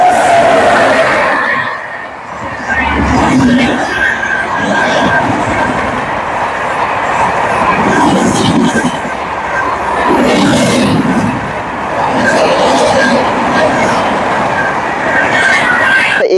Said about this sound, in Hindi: इंटरसिटी भी निकलने लगी, यह है मालदा से चलकर क्यूल जाने वाली इंटरसिटी।